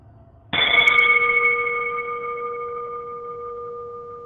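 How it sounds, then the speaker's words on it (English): A single bell strike rings out loud and clear, its bright tone lingering and slowly fading over several seconds. "I would like to start the meeting with our tradition of ringing the bell."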